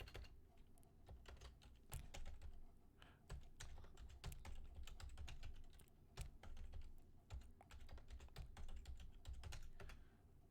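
Someone types a login on a computer keyboard, a steady stream of quick, close key clicks with occasional louder strokes over a constant low hum of room noise.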